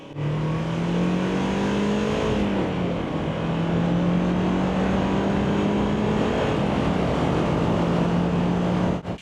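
A stock turbocharged Mazda MX-5 accelerates, its engine droning steadily and rising slowly in pitch over loud, constant wind and road roar from inside the car.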